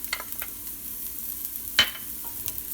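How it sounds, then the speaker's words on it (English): Two cloves of garlic sautéing in a pot for homemade goulash give a quiet, steady sizzle with a few scraping stirs and one sharp clink, heard up close with no talking. "So we're going to saute this up a little bit till the garlic gets a little softened and roasted"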